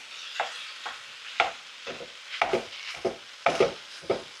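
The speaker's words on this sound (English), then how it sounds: "you're going to fry these off basically until they're browned off" Leeks fry in a pan while a meat masher breaks them up, producing a run of about ten soft scraping and pressing strokes in an irregular rhythm over a faint, quiet sizzle, with no talking.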